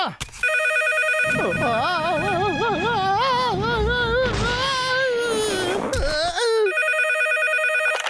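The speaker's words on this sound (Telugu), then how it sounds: "ఎవడు ఈ టైంకి ఫోన్ చేసేది?" A telephone rings in a Boonie Bears cartoon, with a steady electronic ring at the start and again at the end, and a wavering, whining cartoon voice sounding in between.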